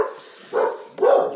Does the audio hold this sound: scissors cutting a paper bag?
no